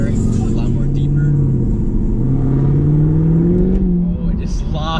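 A car with a new Borla exhaust revs up, its deep engine note climbing and falling close by at high volume, with a voice talking over parts of it.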